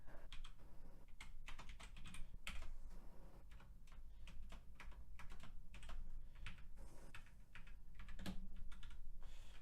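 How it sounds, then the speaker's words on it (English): Rapid, irregular keystrokes on a computer keyboard while coding in JavaScript, clattering in close bursts throughout with brief pauses, over a steady low background hum. "Can't type this morning."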